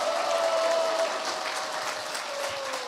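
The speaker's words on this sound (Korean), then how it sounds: "우리 김학성 장로님께 다시 한번 큰 박수 한번 부탁드립니다" An audience at a Gangneung political rally applauds in a steady wash of clapping, with a faint tone running through the first second.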